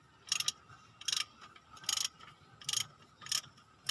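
Torque wrench ratcheting on an Isuzu 4HF1 engine: five short bursts of metallic clicking, evenly spaced about every 0.8 seconds, close and fairly loud over a low background rumble, with no talking.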